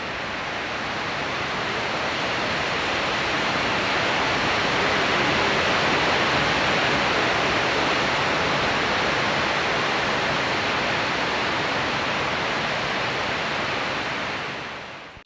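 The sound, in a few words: twin waterfall pools at the 9/11 World Trade Center memorial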